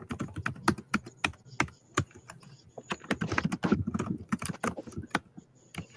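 Loud, hard typing on a computer keyboard, with rapid irregular clacks and heavy key strikes in uneven bursts, close and alone with no voices.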